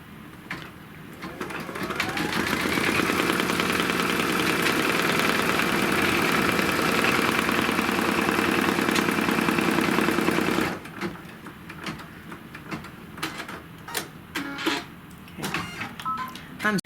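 An embroidery machine stitches a placement line onto fabric, a steady rapid mechanical whir that runs continuously for several seconds, then stops, leaving quieter handling clicks and taps.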